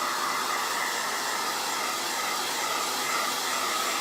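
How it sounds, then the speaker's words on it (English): A small hair blow dryer blows steadily on freshly painted wall edges along painter's tape, giving a continuous, even, close whooshing hum from start to finish. "I'm going to give this a quick little dry with my little blow dryer"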